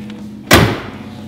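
The door of a 1969 Chevrolet Chevelle SS396 swings shut with a single solid, close thud that fades quickly over a low steady hum.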